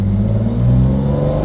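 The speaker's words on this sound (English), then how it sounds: "it's the gear change" A McLaren F1 roars close by under hard acceleration, a loud, dense engine rumble whose pitch shifts slightly as it changes gear.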